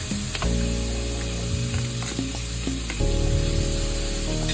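Butter melts in a hot pan for a spicy garlic butter Cajun sauce, giving a steady, close sizzle. Scraping stir strokes and small clinks run through it, and there is no talking.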